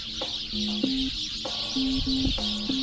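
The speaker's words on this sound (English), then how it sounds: "Do you hear all those birds?" Birds chirp and call in short, repeated notes over a steady outdoor hiss, with several calls overlapping at close to middle distance.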